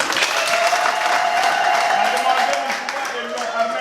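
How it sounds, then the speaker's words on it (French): Wedding guests at a civil ceremony break into loud, continuous applause, dense clapping throughout with crowd voices and a lingering tone mixed in. "Applaudissez."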